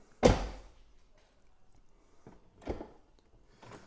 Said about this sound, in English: And we should be able to shut the door.